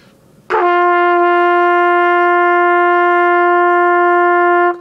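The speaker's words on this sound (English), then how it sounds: "We'll take this is a G on the trumpet." A trumpet sounds a single sustained G with a sharp attack, holding steady, bright and clear for about four seconds before cutting off, played alone and close.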